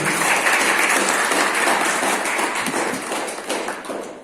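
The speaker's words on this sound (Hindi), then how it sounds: "उनके लिए भी मैं एक बार चाहूंगा आप जबरदस्त ताली बजाइए" An audience at a seminar applauds loudly with dense, sustained clapping that fills the room and then gradually thins out toward the end.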